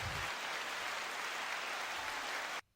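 A broad wash of applause holds steady and even for over two seconds, then cuts off abruptly into near silence.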